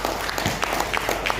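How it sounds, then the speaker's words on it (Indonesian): Audience applause at a formal talk, a moderate patter of clapping hands from a crowd with a faint voice mixed in. "Beri tepuk tangan juga."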